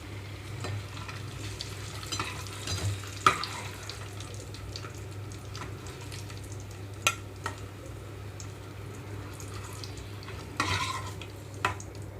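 Quiet sizzling of boiled eggs frying in oil beneath a steady low hum, with occasional scraping and clinks of a utensil stirring in a pan.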